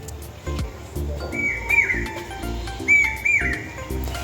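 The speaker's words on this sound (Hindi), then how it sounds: "जो सुबह वाली आवाज़ें जो होती है ना कोयल की, वो सुनिए कितनी प्यारी लग रही है ना" Asian koel calling before dawn in darkness, a few clear rising whistled calls repeating in pairs over a busy low background hum, fairly close and distinct.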